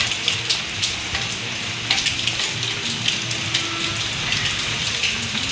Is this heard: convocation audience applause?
no